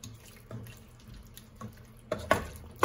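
Two cups of water are stirred in a bowl for Southern collard greens, soft faint swishes giving way to a few sharper splashes and sloshes near the end.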